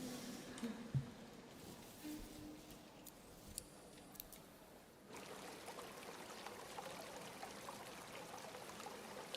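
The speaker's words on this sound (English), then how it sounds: "It does sound like there was water running through here though" Steady broadband rush of running water in the video game Jusant, faint and continuous, swelling louder halfway through and holding as an even flowing wash.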